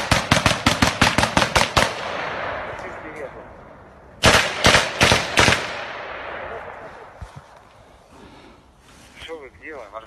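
Gunfire in a friendly-fire incident during the war in Ukraine near Moshchun, Kyiv region: rapid loud bursts of automatic fire, a pause, then another close burst, with shouting voices and fainter shots afterward.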